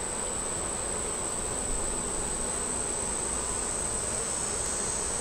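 Bees buzzing around a backyard beehive after a hot month, a steady dense insect drone with a high continuous whine, constant in level and close by, with no talking.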